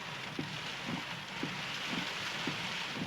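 Storm rain falls in a steady, dense hiss, broken by soft low thuds at a regular pace about every half second, with no one speaking.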